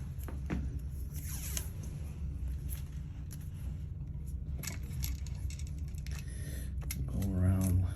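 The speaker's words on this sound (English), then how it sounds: "I'm gonna put some tape." Electrical tape is pulled and wrapped around the wiring of a tamper-resistant GFCI outlet, giving a steady, close crackly rustle under a constant background hum, with a louder stretch of tape unrolling near the end.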